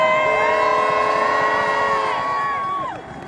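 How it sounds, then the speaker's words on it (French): Spectators at the Biathlon World Cup in Le Grand Bornand cheering and whooping loudly in sustained, overlapping voices with horns, the roar holding steady before easing off near the end. "vous pouvez les applaudir."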